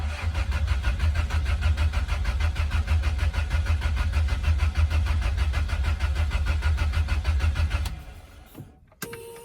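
A 1979 Toyota Corolla Deluxe sitting in a scrapyard cranks over with a steady, rhythmic starter churn for about eight seconds without catching, loud and close, then cuts off abruptly, leaving a brief clunk.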